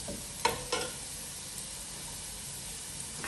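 Garlic sizzles in a hot pan with a soft continuous fry, broken early by two sharp scraping stirs and a later faint clink, fairly quiet and close with no voices.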